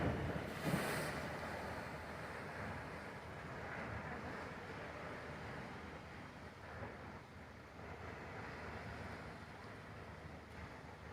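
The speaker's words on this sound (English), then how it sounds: "So the water comes in there and goes smash and makes a big sound like thunder." Ocean waves surging into a small inlet and crashing with a deep, thunder-like boom, a continuous broadband rumble and wash of water with wind noise, steady and fairly loud throughout.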